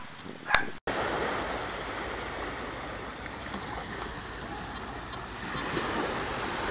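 Surf on an old beach washes in as a steady broadband rush, with a sharp handling knock near the start, and continues evenly throughout without speech.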